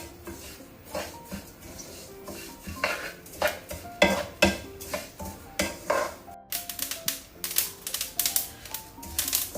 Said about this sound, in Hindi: ये आपको इसकी आवाज़ आ रही होगी, इसका यही मतलब है कि ये अलसी अच्छी तरह भुन गई है।